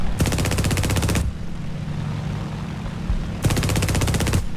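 Spitfire Mk IIa guns in a flight video game fire two long, loud, rapid bursts about a second each, separated by a short lull of engine drone.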